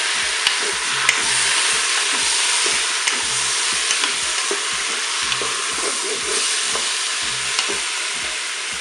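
Mushrooms and tomatoes frying in a Cookeo multicooker on browning mode, a steady loud sizzle with occasional stirring scrapes and small pops, close and continuous, no voices.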